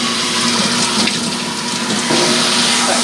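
Running water rinses shampoo from a show poodle's coat during a bath, a steady rushing spray with a faint pump-like hum, loud and continuous throughout with no talking.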